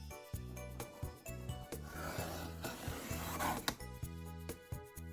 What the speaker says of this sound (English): I'm just gonna trim off just a slight amount here.